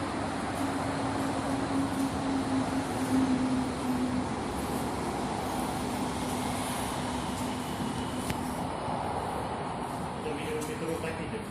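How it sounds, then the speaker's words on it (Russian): A Moscow metro train runs with a steady, continuous rumble and roar throughout, with a faint hum in the background and no clear speech. "Метро так идет."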